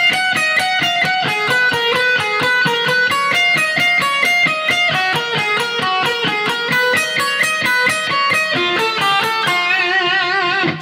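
A slow neoclassical passage on distorted electric guitar from a guitar solo, played as an even run of sustained, ringing notes stepping through a sequence that changes in the last few seconds.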